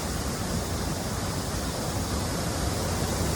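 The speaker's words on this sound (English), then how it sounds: "Well, here we are, Big Niagara Falls." Big Niagara Falls, a waterfall swollen by recent rain and running brown with sediment, gives off a steady, dense roar of rushing water that holds constant and loud throughout.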